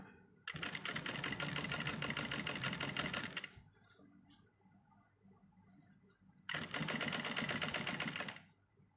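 A sewing machine stitching a trouser crotch seam on a repair job runs in two close, steady whirring bursts of about three and two seconds, separated by a quiet pause.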